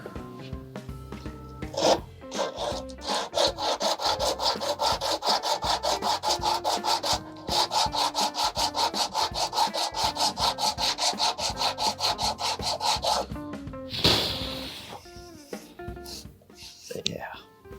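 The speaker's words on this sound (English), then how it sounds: "We'll try sanding." Rapid back-and-forth scraping of a sanding block on a wooden guitar fretboard with filled fret slots, a rhythmic rasping stroke repeated many times with brief pauses between bursts.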